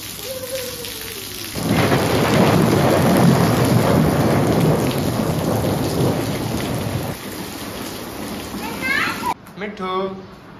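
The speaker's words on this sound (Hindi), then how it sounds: "बारिश आ रही है यहाँ, देखो आपके स्विमिंग पूल में बारिश" Rain pours down over a backyard swimming pool during a storm, a loud dense hiss of drops with rolling thunder rumbling beneath, easing toward the end as voices break in.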